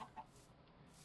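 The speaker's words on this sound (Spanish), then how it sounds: "Gallinas." Chickens cluck in the video game Minecraft, two short, faint clucks right at the start, then quiet background.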